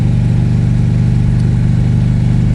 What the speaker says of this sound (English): having a motorcycle with loud pipes